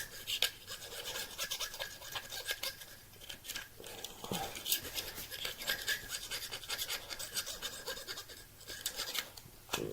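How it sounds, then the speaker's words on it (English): Loose epoxy is scrubbed off knife handle scales in quick, rough rasping strokes, a continuous close scratchy brushing that rises and falls in short repeated bursts. "We'll go ahead and clean the scales. Get a loose epoxy off there."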